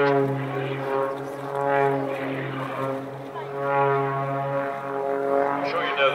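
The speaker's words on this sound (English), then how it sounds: "with the plane with the wings pointing up and down, knife edge, relying on engine power and a bit of lift from the fuselage" An aerobatic plane with an air-cooled seven-litre flat-six engine drones overhead in knife-edge flight, a steady harmonic propeller hum rising and falling at a hill climb event.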